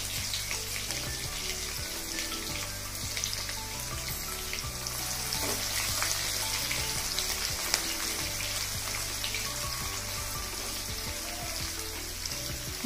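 Thinly sliced onions fry in hot oil with a continuous, crackling sizzle, close and steady throughout, with no voices over it.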